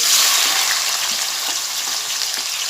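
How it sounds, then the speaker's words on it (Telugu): Onions dropped into hot oil in a pan for a Telangana bitter gourd curry give a loud, continuous hissing sizzle that stays close and even throughout, with no voices. "ఆయిల్ వేడైంది అని ఆనియన్స్ వేసుకుందామండి"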